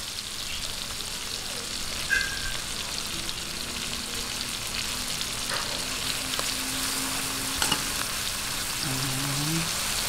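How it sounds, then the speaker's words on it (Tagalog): Chicken and tomato paste sauté in a pan with a steady, soft sizzle and occasional clinks of stirring, continuous and close throughout. "Ayan, gisa-gisahin lang po natin."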